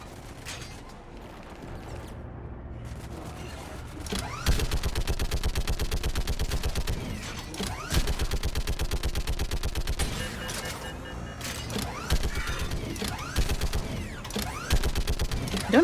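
Mounted gun in Mass Effect firing in long rapid bursts, loud, dense, mechanical rattling, with brief pauses between strings of shots and creaking, clanking machinery mixed in.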